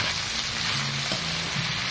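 Pieces of tofu fry in a hot pan, giving a continuous close sizzle with a soft bubbling texture and a brief clink near the middle.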